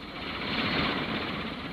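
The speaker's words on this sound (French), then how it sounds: "Un hélicoptère du Spectrum survole notre véhicule." A Spectrum helicopter from the animated series Captain Scarlet and the Mysterons: a steady engine drone passing overhead holds at a constant moderate level for a couple of seconds with no voices.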